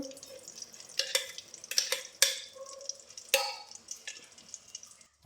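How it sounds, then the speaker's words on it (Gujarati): Ghee dropped into a hot pan while making sukhdi, a Gujarati jaggery sweet, with soft sizzling, drips and spatula scrapes in short close bursts, no talking. "ચલો, આપણે પાછું ઘી નાખશું."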